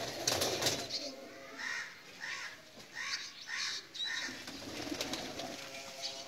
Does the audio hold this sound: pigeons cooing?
yes